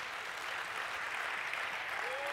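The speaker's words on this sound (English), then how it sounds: "give the Lord a hand clap" A church congregation gives a hand clap, a dense, continuous wash of clapping from many people that holds steady, with a brief tone near the end.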